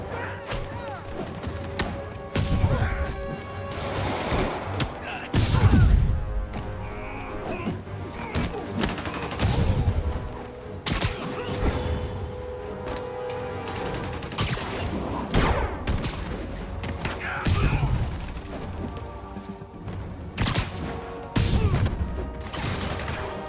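Rocket launchers fire in a Spider-Man Remastered battle, a dense run of booming blasts and crashing impacts over a steady game music bed, with a few loud thuds standing out.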